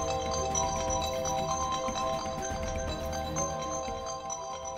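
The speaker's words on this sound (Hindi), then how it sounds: "इतनी रात को किसका फोन है?" A phone ringtone plays late at night indoors, a steady repeating electronic melody with sustained tonal notes, continuous and fairly loud throughout with no voices over it.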